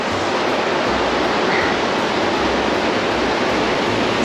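Water runs down slippery rocks on a via ferrata route at Ouray, a loud, steady broadband rush close by, with no voices.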